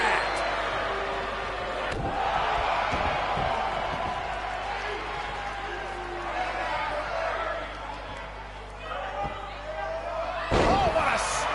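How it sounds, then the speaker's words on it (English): Wrestling action in the WWE 2K19 video game during a handicap match, with a steady roaring arena crowd throughout and heavy slam impacts near the start and end, under continuous commentary. "Oh, what a slam that hurt!"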